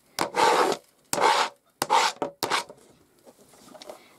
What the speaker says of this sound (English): So I'm just going to scrape off these excess pieces.